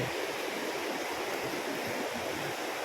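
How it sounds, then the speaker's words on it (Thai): Waterfall at Huai Kok Kok, a steady full roar of rushing water filling the whole clip, loud and close with no voices. "คุณเอ็มเพิ่นพามาเที่ยวมา ชม น้ำตกเนาะพี่น้องเนาะ"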